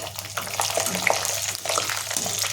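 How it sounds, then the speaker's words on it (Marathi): Peanuts frying in leftover hot oil for corn chivda, a steady close bubbling sizzle with small pops throughout. "उरलेल्या त्याच तेलामध्ये आपण शेंगदाणे टाकून तळून घ्यायचे"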